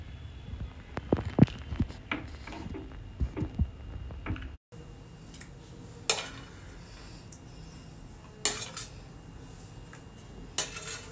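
Sabudana payasam, a creamy sago pudding, goes into serving bowls: sparse close clinks and taps of spoon against dishes over a faint hum, with a brief gap midway and no speech.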